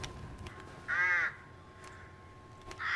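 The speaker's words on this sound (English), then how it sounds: "I hear those crows." Crows caw in the Resident Evil Village video game, two distinct harsh caws, one in the middle and one at the end, over a quiet ambient background.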